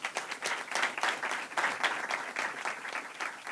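Luncheon attendees at a healthcare policy event give a round of applause, steady, moderately loud clapping from a room full of people with no voices over it.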